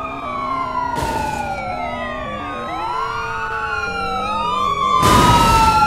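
Police car and ambulance sirens wail and sweep up and down together in a driving video game, loud and continuous, overlapping each other, with two short bursts of crash or impact noise.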